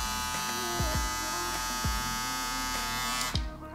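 An electric shaver powered by a Charwego charger buzzes steadily and close, with a constant hum and a few brief knocks, until it cuts off near the end.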